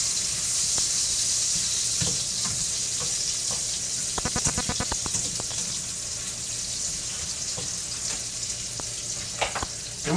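Bacon sizzles and spits in a frying pan as a simple potato dinner starts, a steady close crackle throughout with occasional clinks and stirring scrapes, and a short run of rapid tapping partway through.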